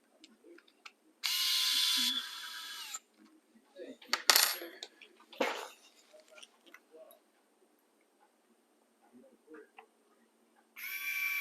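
A small metal nut drops and clatters during assembly of a Hardcore RC budget competition RC car, heard as a few sharp, close clinks and rattles amid quiet workbench handling noises and brief bursts of broadband rustle.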